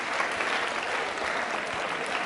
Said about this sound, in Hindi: तालियां बजाइए इस बच्ची के